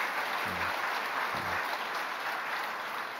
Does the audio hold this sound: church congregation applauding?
yes